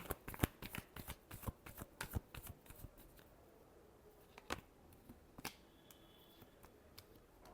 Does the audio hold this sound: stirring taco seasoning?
no